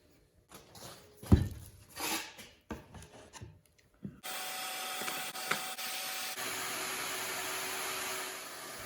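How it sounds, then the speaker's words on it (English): Scattered rubbing and knocking sounds give way to a steady, loud buzzing drone of a power sander running continuously on wood to the end. "Now it's time for everyone's favorite thing, including mine, sanding."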